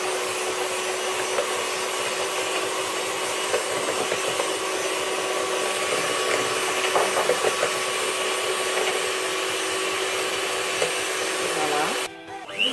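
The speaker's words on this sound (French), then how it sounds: "je vais bien mélanger jusqu'à blanchissement de mes œufs" Electric hand mixer beating eggs with sugar for cupcakes, a steady continuous whirring drone with faint scraping against the bowl, close and even throughout, cutting off abruptly near the end.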